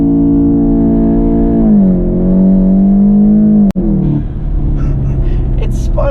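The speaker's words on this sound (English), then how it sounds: "you could hear that blow-off valve so loud" A Cobb-tuned 2015 Volkswagen Golf GTI holds its engine at a steady high drone on launch control, then the pitch sags and settles. A sharp instant crack cuts through, and the engine note carries on lower afterward, loud and close.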